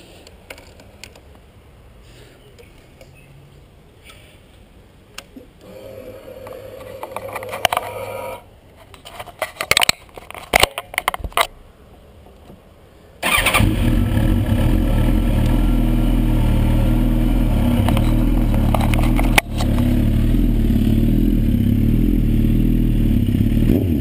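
A Suzuki K8 1000 motorcycle engine clatters and catches as it starts, then settles into a loud, steady running rumble close by, with no speech.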